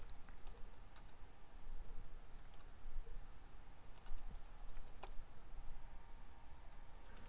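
An SSH command typed on a computer keyboard, a quick uneven run of soft key clicks with a few sharper taps, close and quiet with no speech.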